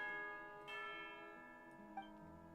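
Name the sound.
bell ringing for tea time, from the video game Genshin Impact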